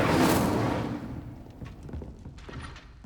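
Incendio fire spell cast in Hogwarts Legacy: a loud broadband whoosh of flame bursts in at once and fades after about a second, followed by scattered soft thuds and crackles.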